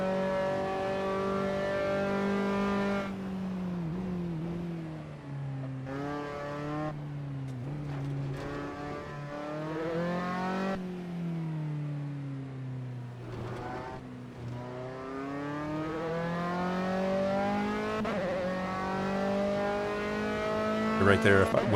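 An F3 race car engine in Assetto Corsa screams loudly and continuously, rising in pitch through the revs and dropping sharply at each upshift, with several gear changes in quick succession.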